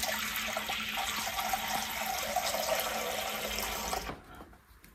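Tap water pours steadily into a container for oven cleaning with a hissing rush, then cuts off abruptly near the end, leaving quiet.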